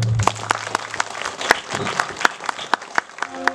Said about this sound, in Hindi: एक बार सिस्टर रोजलिन के लिए हम लोग सबकी तालियां बजाएंगे